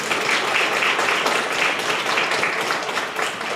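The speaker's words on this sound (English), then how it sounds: "round of applause for our panelists" Audience applauding a panel of speakers at a talk on non-profits in healthcare, a steady dense wash of clapping from a modest crowd lasting throughout without a break.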